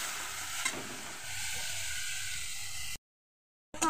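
Ginger, turmeric and spices sautéed with a splash of water in a pan for Bengali aloo dum, giving a steady close sizzle with stirring scrapes that cuts off abruptly near the end, with no talking.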